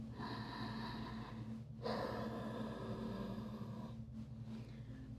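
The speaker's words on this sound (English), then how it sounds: "Deep breathing." Deep breathing during an intermediate-to-advanced yoga class, with slow, faint breaths that include a sharper inhale partway through, over a low steady background hum.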